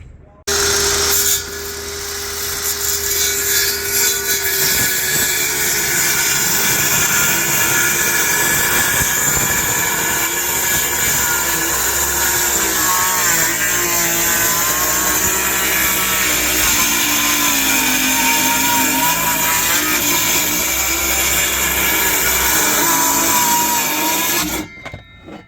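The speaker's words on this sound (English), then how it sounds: "So let's get to cutting some plywood." Power saw cutting plywood for an emergency rudder on a C&C 39 sailboat, a loud, continuous high-pitched whine and rasp close by that shifts in pitch as the blade works, stopping at the end.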